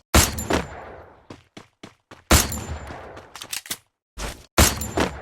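Gunfire in a shooting video game, loud sharp bursts of rapid shots in clusters separated by brief gaps, with scattered single cracks in between.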